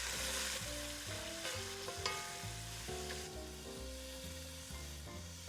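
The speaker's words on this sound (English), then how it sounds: "Now we want to bring the bacon to a nice crisp" Bacon crackles and sizzles in a pan as it crisps before vegetables go in, a steady close frying hiss with faint clicks, heard alone.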